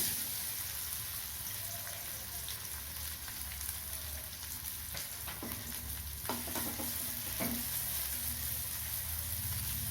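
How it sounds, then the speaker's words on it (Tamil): Garlic sautéing in oil in a pan for spicy puffed rice, a steady close sizzle with several sharp stirring scrapes of the spatula partway through. "இப்போ பூண்டை போட்டு வதக்கிக்கலாம்"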